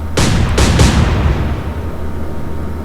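Naval artillery fires in the Atlantic Fleet video game, three heavy booming shots in quick succession followed by a long rumbling decay, loud and close with no talk.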